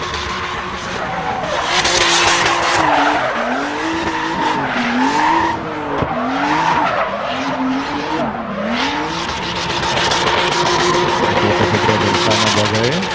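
At a drift competition in Klaipėda, a drift car skids with loud, wavering tire squeals over a roaring engine, rising and falling repeatedly and staying close and intense, while a commentator talks over it.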